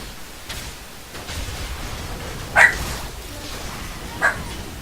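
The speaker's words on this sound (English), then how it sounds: "Sorry, my dog in the background is barking" A pet dog barks twice in the background, at about 2.6 and 4.3 seconds, distant and fairly faint under steady room noise during a League of Legends tournament stream.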